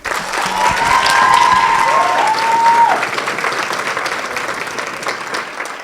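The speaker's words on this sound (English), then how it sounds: "so a round of applause, please." An audience keeps up steady, fairly loud applause throughout, easing slightly toward the end, with a voice speaking briefly over the clapping early on.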